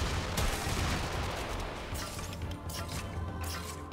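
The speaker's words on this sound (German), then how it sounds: "Mit Explosion von unserer Waffe." Weapon explosion in the Warframe video game, a dense, sustained burst of blasts and crashing game effects at steady loudness across the whole stretch, with no talking.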